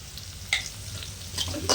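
Onions and mustard seeds cook in oil in a pan, giving a soft, low sizzle with a few brief scraping stirs, fairly quiet.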